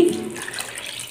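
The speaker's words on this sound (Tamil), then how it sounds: "இப்போ புளித்தண்ணி உங்களுக்கு சேர்த்துடலாம்." A brief splash and trickle of tamarind water being poured into a fish curry, close by, fading into a quiet wet hiss.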